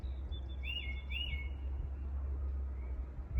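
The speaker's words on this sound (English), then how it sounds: "Can you hear that bird?" A bird whistles two quick rising-and-falling calls outdoors over a low, steady rumble of background noise, fairly faint and distant.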